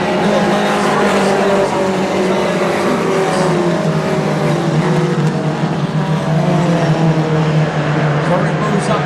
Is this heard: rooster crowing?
no